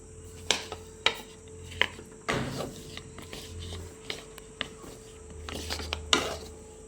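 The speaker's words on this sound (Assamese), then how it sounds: "এয়া গুড় দি দিছোঁ আৰু মই এই পাগমাৰিডালে লাহে লাহে লৰাই থাকিম।" Jaggery being stirred with a spatula in a heating wok while making a traditional Assamese sweet, giving sharp scrapes and knocks of the utensil against the pan at an irregular pace, up close with no talk.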